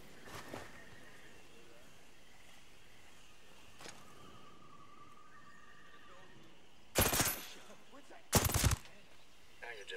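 Gunfire rings out in the video game Ghost Recon Breakpoint as two short, loud bursts stand out near the end over a quiet background, with a few fainter isolated shots earlier.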